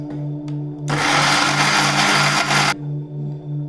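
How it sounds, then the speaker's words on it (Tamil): A kitchen mixer grinder blends boiled spinach into a smooth paste, a loud whirring roar that starts abruptly, runs for about two seconds, then cuts off, with a low motor hum before and after. "நம்ம மிக்சியில் போட்டு அரைச்சிக்கணும்"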